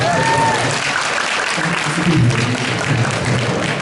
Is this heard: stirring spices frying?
no